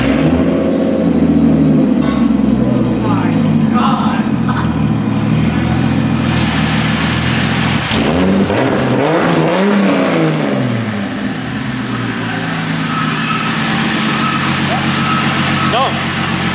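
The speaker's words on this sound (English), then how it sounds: "Straight pipe sound test." Toyota Supra with an APEXi straight pipe exhaust revving loudly and close, a harsh continuous roar with rising and falling engine pitch, people talking over it.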